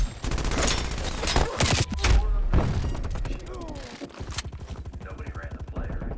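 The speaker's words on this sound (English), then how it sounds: "Hostile sentry turret" A hostile sentry turret fires in Call of Duty: Black Ops Cold War multiplayer, loud rapid bursts of automatic gunfire with thumps, close and continuous, mixed with game sounds.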